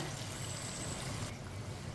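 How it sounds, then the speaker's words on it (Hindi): Water poured from a glass into a cooking pot of rice already cooked with spices, a steady close stream running for about a second before quieting under a low background rumble. "अब इसमें पानी डाल लेंगे।"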